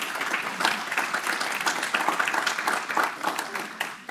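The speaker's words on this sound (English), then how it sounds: "Give her a great big round of applause, please." An audience at a 2019 executive luncheon applauds with sustained, moderately loud clapping from many hands that fades out near the end.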